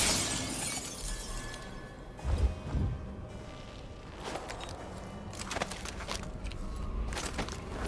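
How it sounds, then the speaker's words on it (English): A glass window shatters in Dishonored 2, a single sharp breaking crash followed by scattered tinkling debris and soft footsteps against low ambient noise. "I'm going to try and break that glass so I can get in there."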